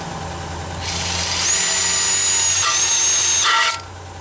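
A power drill drills out a rivet on a Ford 390 rocker shaft, whining loudly and close for a few seconds with a brief stutter near the end before it stops as the bit breaks, over a low background hum.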